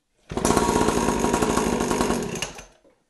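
A small pocket bike engine fires up after its carburetor is cleaned, giving about two seconds of loud, rattling, buzzy running before it cuts out abruptly.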